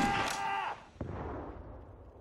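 A single loud artillery or gun report from the Sudden Strike 4 strategy game booms once, rolls into a decaying rumble, and is preceded by a short burst of game sound.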